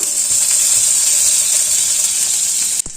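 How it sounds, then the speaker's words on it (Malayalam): A piece of butter sizzling in a pan on a gas stove, a loud continuous bright hiss throughout, broken by a short knock near the end. "ഗ്യാസിലോട്ട് ഒരു പാൻ വെച്ച് കൊടുത്തിട്ടുണ്ട് ഇനി അതിലോട്ട് നമ്മൾ ആദ്യം ചേർക്കാൻ പോകുന്ന ഒരു പീസ് ബട്ടറാണ് കേട്ടോ അതിട്ട് കൊടുക്കാം"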